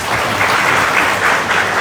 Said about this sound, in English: So let's applause for Ron Yan